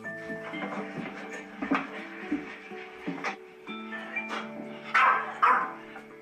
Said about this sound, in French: C'est un aboiement autoritaire.